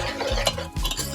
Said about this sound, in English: Just give it a very good mix.